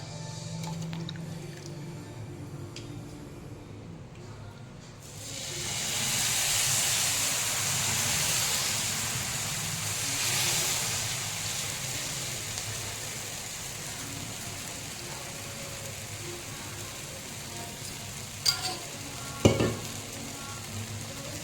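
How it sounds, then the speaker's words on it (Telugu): Jowar flour rava dosa batter hits a hot pan and erupts into a loud, steady sizzle after a quieter stretch, with a couple of sharp utensil taps near the end. "ఇంకొక దోశ వేస్తున్నాను"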